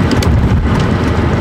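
Steady rain pours down around a moving car, a dense, loud hiss of drops on the surface with no voices, filling the whole short stretch.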